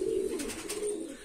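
Domestic pigeons coo close by, low throaty rolling notes in one continuous phrase heard alone over faint background noise.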